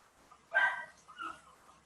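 Dogs indoors barking at the door, two muffled bursts heard from a distance, one near the start and a softer one after, with no talking over them.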